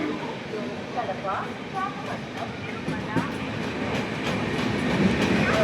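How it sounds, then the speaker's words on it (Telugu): An express train runs straight through platform three of a station without stopping, its wheels and wagons giving a continuous rumble with rhythmic clatter that builds slightly toward the end, under nearby voices. "ఇప్పుడు ప్లాట్ఫామ్ నెంబర్ మూడు నుంచి ఏదో ట్రైన్ పాస్ అయిపోతుంది"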